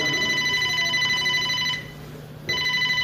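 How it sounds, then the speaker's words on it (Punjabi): A telephone rings with a steady electronic trill, sounding twice with a short gap between rings, close by and alone. "ਆ ਫੋਨ ਚੱਕ ਕਿਹਦਾ ਆ?"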